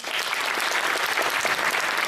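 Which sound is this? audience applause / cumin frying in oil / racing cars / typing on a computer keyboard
audience applause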